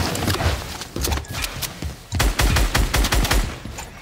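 Rapid gunfire bursts in a Fortnite match, with clusters of sharp shots repeating through the moment, loud and close, mixed with scattered impacts and game effects.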